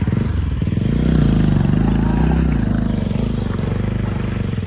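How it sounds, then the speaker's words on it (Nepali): A motorcycle labors up a steep hill near Hetauda, Nepal, its engine droning loud and close with uneven swells in revs and some mechanical clatter throughout. "एउटा चढ्न सफल भएको छ एउटा बाइक पास भयो"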